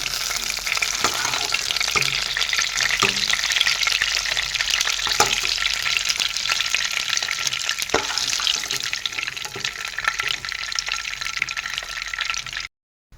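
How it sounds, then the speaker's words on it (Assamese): Sliced onions and green chillies sizzle steadily in hot oil left over from frying fish for a fish curry, a constant crackling fry with occasional sharp clicks of stirring, close and without talk. "এতিয়া সেই তেলতে পিঁয়াজখিনি দি দিলোঁ আৰু কেঁচা জলকীয়াকেইটাও দি দিছোঁ।"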